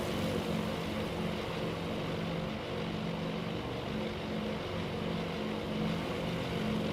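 Aircraft flying in formation in the naval war game Task Force Admiral, heard as a steady droning hum of propeller engines that stays even and moderately quiet throughout, with no voices.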